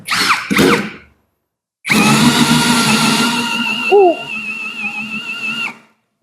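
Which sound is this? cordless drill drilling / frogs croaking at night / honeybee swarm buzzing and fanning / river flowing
cordless drill drilling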